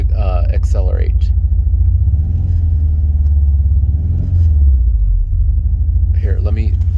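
VW Vanagon Carat with a Magnaflow sport muffler accelerating, a deep steady exhaust rumble that swells in pitch as revs rise, close and loud, with brief talk at the start and end.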